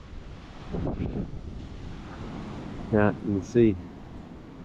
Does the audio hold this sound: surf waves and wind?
yes